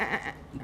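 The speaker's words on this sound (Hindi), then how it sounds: "मुझे बड़ी अच्छी आती है आवाजें बकरे की" A goat bleats at an Eid ul Adha gathering, one short wavering cry close by, with no voices over it.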